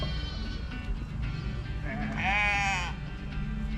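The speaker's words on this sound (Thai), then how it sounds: "แกะเข้านอน แกะเข้าบ้าน" Sheep bleat while being herded into a pen at a resort farm: one clear, loud bleat near the middle stands out over a steady low rumble of background noise and faint activity.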